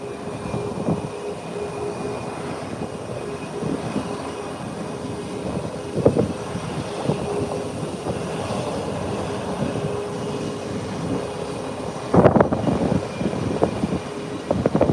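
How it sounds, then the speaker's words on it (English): A United airliner taxis along an airport ramp toward the runway, a steady low rumble with occasional louder knocks and thumps, continuous and moderately close, no talk. "And United starts trekking down the ramp, heading to the taxiway, onwards to the runway for takeoff."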